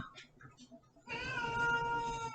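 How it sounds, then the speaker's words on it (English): A pet cat gives one drawn-out meow, loud and close, after a moment of quieter room sound. "My cat."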